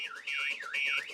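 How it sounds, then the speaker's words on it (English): A Vauxhall Combo van's alarm wails in a loud, close, rising-and-falling siren, each sweep repeating quickly and steadily, sounding alone. "if we try to open the door, first of all, the alarm goes off straight away"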